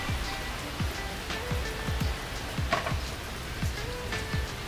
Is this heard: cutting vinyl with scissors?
no